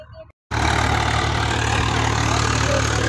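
A Swraj 855 tractor engine runs steadily under load after a brief pause, a loud, continuous low diesel drone with a throbbing rumble close to the listener.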